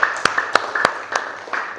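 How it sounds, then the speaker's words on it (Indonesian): Classroom clapping from a small group of students, with sharp, loud, evenly spaced claps about every third of a second and a faint hum underneath. "Oke, tepuk tangan."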